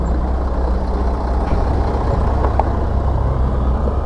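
A loaded truck idles and rumbles on the Karul ghat mountain road between Gaganbawada and Vaibhavwadi, a steady, loud, low engine drone with faint air-brake hiss, no voices.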